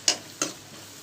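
Two quick scraping stirs sound in a pan of chicken curry seasoned with turmeric and salt, each a short sizzling swish a moment apart, close and alone.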